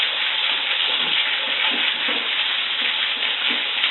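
Curry chicken being stirred in a pot, a steady sizzling hiss with soft scraping and shuffling of pieces throughout, close and continuous with no voices.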